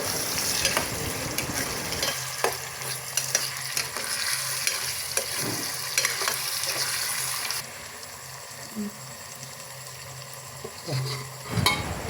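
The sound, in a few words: onion and tomato sautéing in a pan for fish curry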